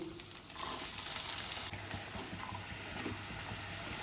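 Potato pieces frying in oil with chopped ginger and green chili for homemade shop-style singara filling, a steady broadband sizzle close by with occasional soft stirring scrapes.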